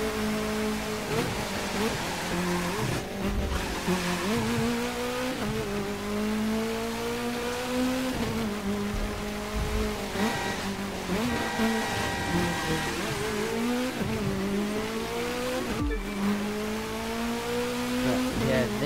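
Racing cars in the video game The Crew 2 near the finish of a race, engines droning and revving steadily with rising and falling pitch and brief tire squeals, loud and continuous with faint talk underneath.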